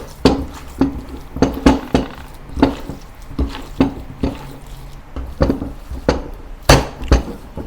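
Pork, shrimp and spring onion wonton filling being mixed in a bowl, with repeated sharp knocks and clinks of the utensil against the bowl in an uneven rhythm, close and fairly loud with no talking.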